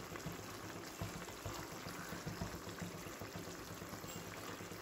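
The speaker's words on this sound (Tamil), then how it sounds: "இது லைட்டாக ஒரு கொதி வரட்டும்." A pot of sambar simmers at a gentle boil as rice goes in, giving a steady close bubbling and watery churn that holds at an even level throughout.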